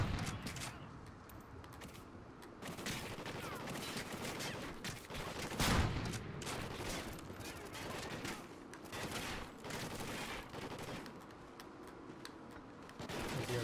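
Rapid bursts of gunfire from Call of Duty: Ghosts combat, dense and continuous throughout with a sharper, louder blast near the middle, some shots striking rocks.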